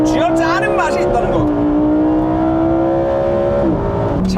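A Lamborghini Huracán EVO's naturally aspirated 640-horsepower engine revs hard and loud, climbing through the gears with sharp shifts, heard from inside the car while someone talks over it.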